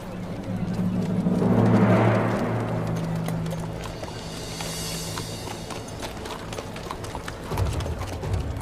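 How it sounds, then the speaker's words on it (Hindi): Horses walking with steady hoof clip-clops on hard ground, close and fairly loud over a rumbling outdoor ambience, in a historical drama scene of soldiers' horses being delivered. "निकिया के तेकफुर ने कमांडर लुकास के सिपाहियों के लिए ये घोड़े भेजे हैं।"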